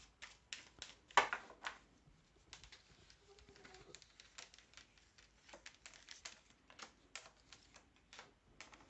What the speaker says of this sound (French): Allez, hop, je remélange encore une fois.